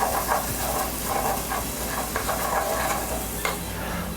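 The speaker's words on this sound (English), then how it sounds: "with garlic, you just want to heat it up just so that the natural oils can come out" Garlic sizzling as it heats in a pan, a steady close frying hiss with light stirring scrapes throughout.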